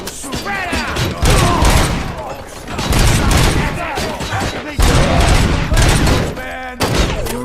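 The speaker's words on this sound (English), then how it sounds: "Am I hearing gunshots?" Dense, rapid gunfire from the video game RoboCop: Rogue City, with loud overlapping shots and thuds going on for the whole stretch, mixed with game voices.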